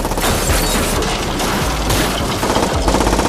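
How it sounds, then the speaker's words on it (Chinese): Mercenaries fire a burst of automatic gunfire in the London gangster series London Gangs, a dense, loud clatter of rapid shots layered over booming score, continuous for a few seconds without speech. "雇佣兵紧追不舍，对着2人的背后就是一梭子子弹。"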